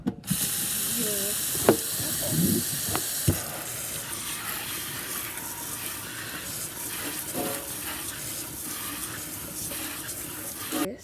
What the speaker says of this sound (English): you're going to want to wash your apples